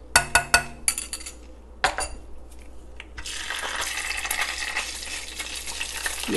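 Ginger garlic paste hits hot oil for Hyderabadi khatti mirch, starting with a few sharp clinks of a utensil against the pan, then breaking into a loud, continuous sizzle of frying that builds toward the end, with no talking.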